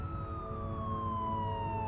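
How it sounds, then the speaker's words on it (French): A police car siren wails in a steady, slowly falling tone over traffic rumble, moderately loud and continuous, with no voices. "tournant mon visage vers les sirènes"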